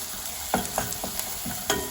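Fine bulgur roasts in a pan for soup, a low steady sizzle with a few distinct spoon scrapes and taps against the pan, close and fairly quiet with no voices.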